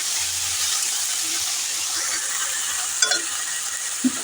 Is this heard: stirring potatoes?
yes